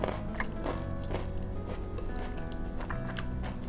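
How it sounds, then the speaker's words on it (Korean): Close, crisp crunching bites of a fresh cabbage salad dressed with yuzu, with chewy pearls mixed in, a run of steady chewing strokes heard alone over a faint steady background hum. "저 양배추가 아삭아삭하고"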